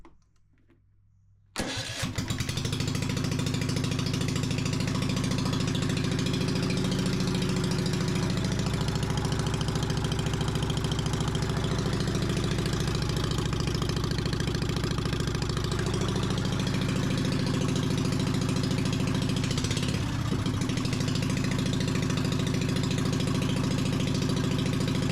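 A car engine fires up after a fuel pump and fuel filter replacement, catching suddenly after a brief quiet moment and settling into a steady, loud, even idle that runs smoothly close by without interruption.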